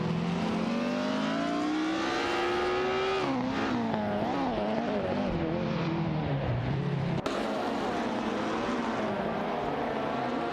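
Vintage racing cars, a Talbot Lago T26C and a Vanwall, duel in a racing video game, their engines droning loudly and continuously with rising and falling pitch as they accelerate and shift, with no voices.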